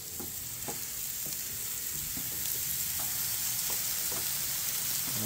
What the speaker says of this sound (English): A beautiful sizzle.